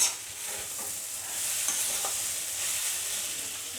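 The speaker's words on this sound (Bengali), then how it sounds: "চর্বিগুলো তেলের মধ্যে ভাজলে গলে যাবে" Goat fat frying in hot oil in a village curry pot, a steady bright sizzle with occasional stirring scrapes, close and continuous.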